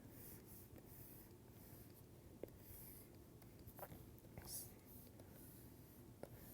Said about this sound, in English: let me draw it